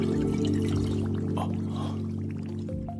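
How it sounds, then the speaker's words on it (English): Water pours steadily as a water magician in an anime adventure film summons it, a continuous splashing stream laid over sustained low tonal music, loud and close throughout. "Water? Heed my call."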